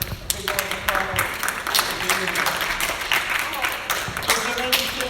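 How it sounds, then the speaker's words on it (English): Audience applause at a live legislative theatre youth event: dense crowd clapping continues throughout at moderate volume, with some voices mixed in. "Let's give them a big round of applause."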